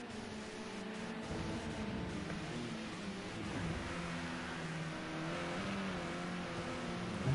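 BMW touring car engine at the Zolder circuit, revving steadily through a chicane alongside other race cars, a continuous loud mid-pitched drone with rising and falling pitch and no pauses.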